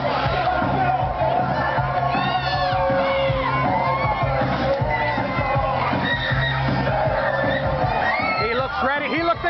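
A wrestling event crowd roars and cheers continuously with shouts and whistles, loud and dense throughout, while a commentator talks over the noise.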